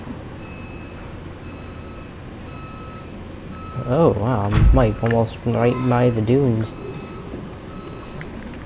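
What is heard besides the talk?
construction vehicle reversing beeps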